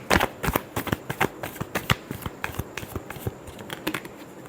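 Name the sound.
tarot cards being shuffled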